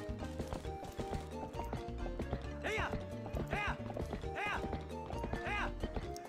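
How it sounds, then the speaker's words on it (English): A horse in the video game Twilight Princess, galloping with rhythmic clip-clopping hooves under game music, and several repeated neighs and whinnies at regular intervals, close and clear. "I'm really good at driving my horse."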